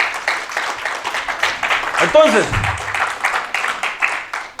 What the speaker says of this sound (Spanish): Denle palmas al que vive si me está entendiendo.